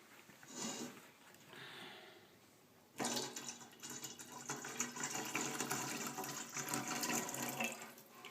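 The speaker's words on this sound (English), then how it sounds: "now I'm going to add the lye" Lye solution poured into refined olive oil for castile soap, a steady liquid pour and splash that starts abruptly and runs continuously at close range after a few seconds of softer handling noise.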